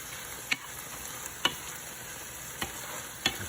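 Spicy pork ragu with onions, sauce, garlic and chili being stirred in a pan, giving a soft continuous sizzle broken by a few sharp spoon scrapes and clicks spaced about a second apart.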